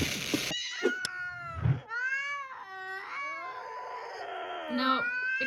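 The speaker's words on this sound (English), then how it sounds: "I like the meowing and Do you think it's funny? It's cats fighting?" Several cats meow, yowl and caterwaul in a scuffle, with rising and falling wails and short sharp cries trading back and forth, loud and close throughout.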